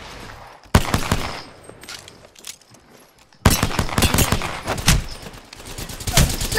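Rapid minigun fire in Apex Legends, two sustained bursts of dense, loud shots separated by a brief quieter gap with faint background game noise.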